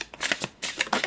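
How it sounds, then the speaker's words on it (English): A deck of tarot cards is shuffled close up, quick bursts of riffling and sliding card noise in an uneven rhythm, with no one speaking. "Let's shuffle 1 or 2 more."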